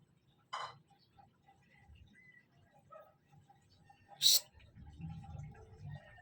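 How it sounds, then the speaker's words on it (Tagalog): Two pet cats at home, with one short meow early on and a louder, sharper meow a few seconds later, set against quiet indoor background sounds and soft low rumbling. "Nadisturbo pa yung paghuhugas ko kasi nagpapasawa itong dalawang pusa namin"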